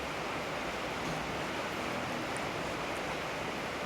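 Water pours over a small waterfall near a village as a steady, even broadband rush with no pauses, close and moderately loud.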